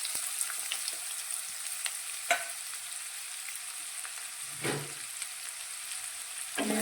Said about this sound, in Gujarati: ડુંગળીને આપણે થોડી સાંતળીશું, તો થોડી આછી ગુલાબી રંગની થાય ત્યાં સુધી આપણે ડુંગળીને સાંતળવાની છે